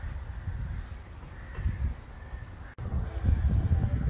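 A crow caws repeatedly outdoors in a rural Latvian setting near Bauska, the harsh calls fairly distant over steady wind and low rumbling background noise.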